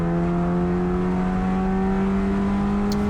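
A Mitsubishi Evolution race car engine drones loud and steady at high revs on the Thunder Hill East track, the in-car note rising slowly and continuously with no break.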